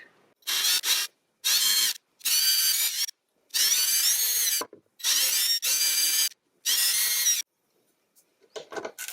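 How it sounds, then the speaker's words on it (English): A small power drill with a 1mm bit drilling pilot holes in a guitar headstock whirs in six short bursts, stopping and restarting in a steady rhythm, close and loud, with brief silences between. "I'm using a 1mm drill to drill a pilot hole, and not too deep."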